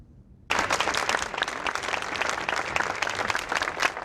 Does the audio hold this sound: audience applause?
yes